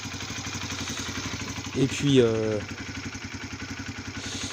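A Honda CBR 125 motorcycle idles steadily after an oil change, a quiet regular putter that continues throughout while someone speaks briefly over it.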